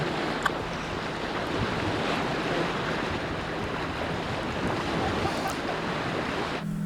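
An evening sea breeze blows across open water, making a steady broad rush of wind and surf that stays constant and loud throughout, with no voices.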